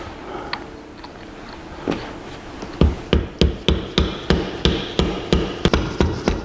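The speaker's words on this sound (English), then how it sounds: "Now they say take a 1/2-inch copper pipe and drive it in the end." Copper pipe, half-inch, being hammered into the end of a Dana 300 transfer case shaft during a 1982 Jeep CJ7 rebuild: a few scattered taps, then a steady run of sharp metallic hammer blows, close and loud.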